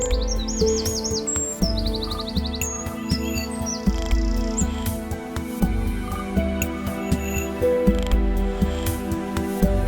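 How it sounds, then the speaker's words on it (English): Spring birdsong along the River Waveney in Suffolk, with woodpeckers and reed warblers: bright chirps and trills scattered throughout, some distant, over a steady low rumbling background. "In the distance I can hear woodpeckers and a lot of reed wobblers and other birds around of its type."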